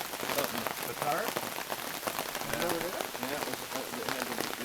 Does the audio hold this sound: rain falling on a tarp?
yes